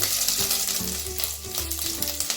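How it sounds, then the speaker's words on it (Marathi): Cumin seeds and a piece of ginger sizzle steadily in hot oil, a close, bright frying crackle that runs through the whole moment with a few soft stirring bumps and no voices. "तेल गरम झाल्यानंतर तेलामध्ये जिरं घालूया अर्धा चमचा थोडस अद्रक एक इंच"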